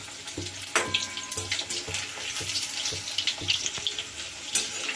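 Chicken balls fry in hot oil with a steady, bubbling sizzle and irregular crackling pops throughout, close and fairly loud.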